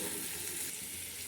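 Chicken with ginger and garlic fries over a low flame, giving a faint, even, soft sizzle that holds steady with no strong accents.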